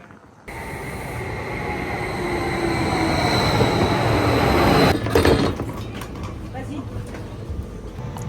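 Swiss passenger train running on rails, a steady rumbling roar of wheels and carriage noise throughout, close and continuous with a brief louder jolt midway; a voice talks over it.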